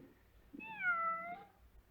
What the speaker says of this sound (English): Samantha, our cat.